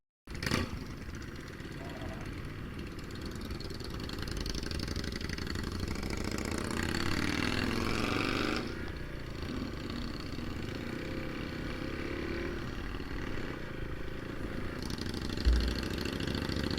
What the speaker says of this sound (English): So, with Jarrod waking up the town with his exhaust